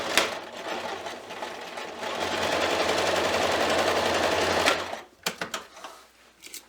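Home sewing machine stitching a quilted stocking's lining closed, running steadily and close for several seconds before stopping, followed by a few small clicks and handling sounds.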